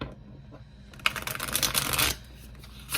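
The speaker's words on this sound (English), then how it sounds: "I love this little deck. It's just kind of hard to shuffle." A small tarot card deck being shuffled, a brief flurry of crisp riffling and flapping cards that builds up and then stops, close and fairly quiet with no talking.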